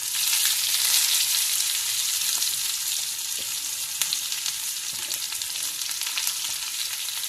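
Onion sautéing in hot oil with cumin and fennel gives a steady, close, bright sizzle with faint occasional scrapes, continuous throughout with no voices.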